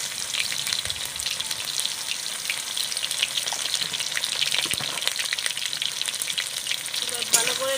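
Pointed gourd (potol) and lightly pre-fried prawns cook with turmeric and salt in a pan, giving a steady close sizzle throughout with scraping stirs and a louder clatter near the end.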